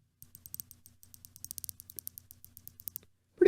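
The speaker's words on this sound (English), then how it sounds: "We're going to do some bezel clicking here." Rapid series of crisp, close mechanical clicks from a Rolex Submariner Date bezel being turned, evenly spaced, ending abruptly.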